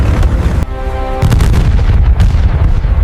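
Artillery fire and explosions from a wartime battle scene, heavy booming blasts following one another in quick succession, loud and continuous throughout with no talking.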